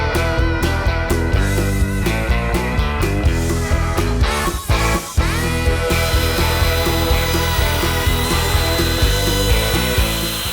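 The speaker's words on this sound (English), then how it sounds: "route out our dado joints" Power router cutting dado joints into timber for camper kitchen drawers, a loud continuous whine broken by short bursts and pauses as passes are made, close up with no talk.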